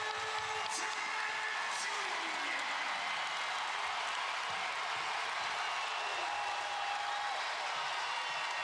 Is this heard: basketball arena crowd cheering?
yes